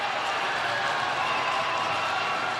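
Hockey arena crowd cheering and clapping at a minor-league game, a dense continuous wash of applause and voices, loud and sustained across the whole moment.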